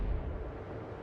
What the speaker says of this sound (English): I don't get why your kid is opening up with guns